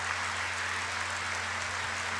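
Sustained applause from a crowded chamber at a State of the Union address, a steady dense wash of clapping running throughout with a faint low hum underneath and no voices standing out.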